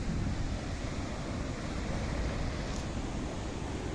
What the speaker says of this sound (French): donc de toute façon il y a des vagues